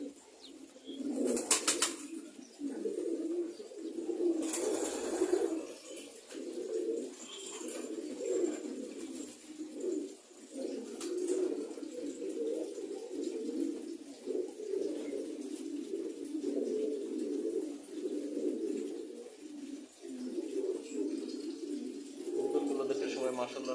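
Pet pigeons cooing steadily in a continuous low, rolling murmur throughout, close and moderately loud, a bird loft where the flock is sometimes let out to fly; brief flutters and noises punctuate the steady cooing.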